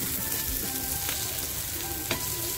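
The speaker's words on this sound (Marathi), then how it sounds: "तर आपले बांगडे फ्राय झालेले आहेत. बघा आपले बोंबील सुद्धा ते छान फ्राय झालेले आहेत." Mackerel and bombil fish fry in a pan Malvani-style, giving a dense, continuous sizzle with a small utensil tap near the end.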